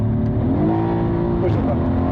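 A 700hp Mercedes C63S coupe engine revs hard and rises in pitch on a downshift, loud and close from inside the car, with voices talking over it.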